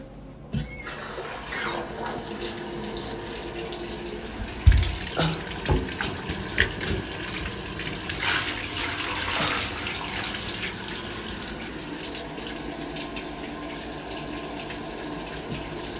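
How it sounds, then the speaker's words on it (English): Tap water runs steadily into a bathtub, a continuous rushing splash that swells with a few thumps and knocks partway through, then settles into an even pour. "Let's go fill up the tub."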